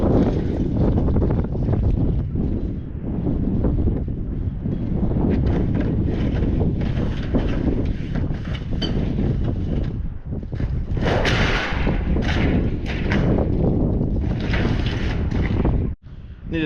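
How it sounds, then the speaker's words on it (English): Strong wind roars and buffets the microphone continuously, loud and rumbling, with gusts surging throughout. "it's way too windy"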